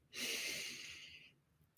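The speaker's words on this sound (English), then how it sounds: "I love box breathing. You breathe in for 4 seconds," A single slow in-breath during box breathing, a close, soft airy inhale lasting about a second before fading into quiet.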